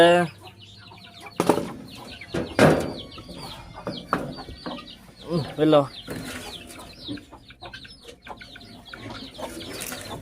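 Guinea fowl cluck in a farmyard, a run of close, uneven calls and squawks with some wing flapping, while people talk over them.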